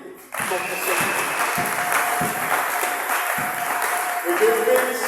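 A church congregation at a Sunday service applauds in a steady, close wash of clapping, with voices and a sustained tone underneath.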